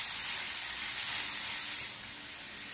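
Chopped onions dropped into hot coconut oil in a cast iron pan for paneer bhurji, a steady bright sizzle and hiss that is quiet but continuous, easing slightly toward the end.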